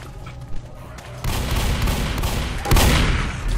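Sniper rifle and other gunfire in the co-op zombie video game Left 4 Dead, a quiet stretch that breaks into loud, dense volleys of shots, one heavy burst followed by another near the end, with no voices.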